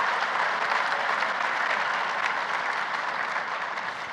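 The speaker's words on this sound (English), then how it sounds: "give yourself a round of applause" Steady applause from a large audience, a dense wash of clapping that holds constant throughout and fades slightly at the end.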